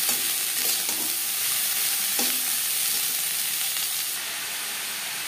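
Capsicum, carrot and beans stir-fry in a pan for vegetable fried rice, with a steady close sizzle and hiss and occasional scraping strokes of the spoon.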